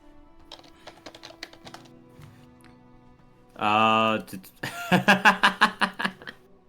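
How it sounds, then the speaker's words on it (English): Someone taps on a computer keyboard, first with light, scattered clicks and then with a faster burst of louder keystrokes. A voice and some laughter come in briefly in the middle. "What are you typing?"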